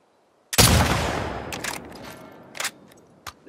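A loud gunshot in The Last of Us Part II video game bursts out after a brief silence and rings away, followed by a few fainter distant shots.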